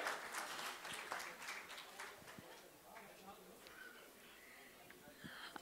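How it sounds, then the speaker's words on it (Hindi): Audience applause at a Steelbird Helmets event, scattered, uneven clapping that starts fairly full and thins out, sounding somewhat distant and quiet, with voices audible over it. "एक बार जोरदार तालियां for the man here."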